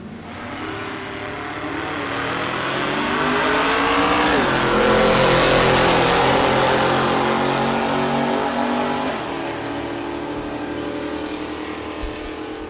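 Mopar and Ford drag race cars launching side by side at a drag strip, a loud continuous engine roar that swells and peaks mid-run with rising, shifting pitch before easing off as the cars pull away.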